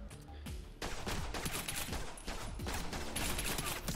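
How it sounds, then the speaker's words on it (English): Rapid bursts of gunfire fill a gun battle in The Bourne Conspiracy video game, with dense overlapping shots and echoing impacts continuing without pause, loud and close, no speech. "Alright, more gun battles."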